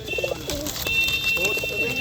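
Pigeons coo in soft, repeated throaty calls at a pigeon market, with faint background chatter and rustling around them.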